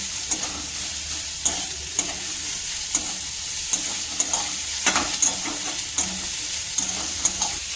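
Mixed vegetables fry in a little oil for momo filling, a constant close hiss of sizzling punctuated by regular clinking and scraping of a spoon stirring the pan, with no voices.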